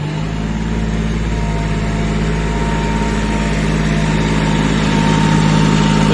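A John Deere 5105 4x4 tractor engine runs steadily at a low idle-like drone, close and continuous with a deep rumble and faint vibration, no voices heard.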